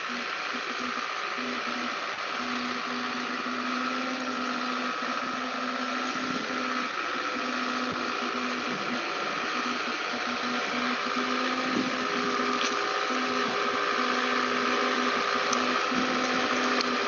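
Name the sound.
Moroka crawler carrier engine transporting oil palm seedlings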